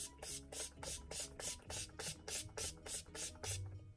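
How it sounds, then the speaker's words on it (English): Rapid bursts of makeup setting spray onto a face, about nine quick hissing pumps in a steady rhythm, close and fairly soft. "take your setting spray, spray that all over"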